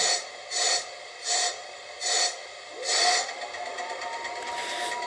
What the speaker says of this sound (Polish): dźwięk hamowania